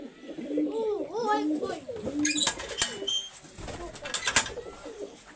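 A large pure-bred Dhanne pigeon coos in repeated soft throaty rolls close by, amid handling noises and people talking.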